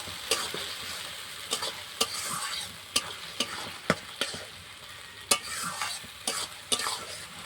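Cumin, green chillies and ginger-garlic paste sizzle softly in a pan, while a spoon scrapes and clacks against the metal in sharp, irregular strokes with no voices.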